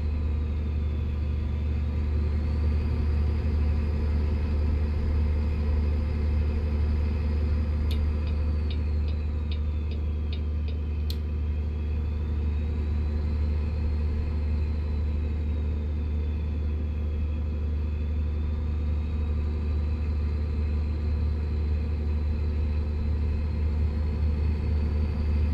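A truck engine in the American Truck Simulator video game, a steady low drone held at cruise-control speed with a few faint ticks partway through.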